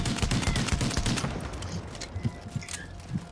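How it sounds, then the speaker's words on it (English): Rapid bursts of automatic gunfire from a weapon in a shooter video game, dense and loud at first, then thinning into scattered shots and thumps. "this weapon is just awesome to shoot"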